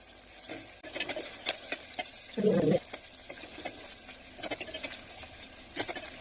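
Tamarind goes into a hot pan while brinjal chutney is being made and gets stirred, giving soft scraping and faint sizzling with a short, louder wet splash midway. It is quiet and close, with no talk.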